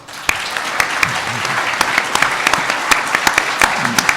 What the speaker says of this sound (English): I just want to do a round of applause for this amazing panel